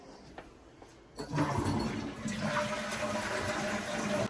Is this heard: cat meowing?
no